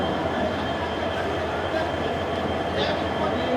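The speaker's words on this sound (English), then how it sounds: "That's our train on platform number 4." Steady rumbling hum of a Vande Bharat Express train standing at a station platform, with a continuous mechanical drone and faint station ambience throughout, no clear voices.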